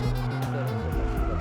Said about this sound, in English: You step on the gas and turn the car sideways